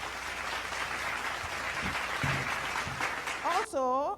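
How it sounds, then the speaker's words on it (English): Audience applause at a gala held by YFC, a broad steady wash of clapping throughout, with a voice speaking over it near the end. "Can you please help me clap for them?"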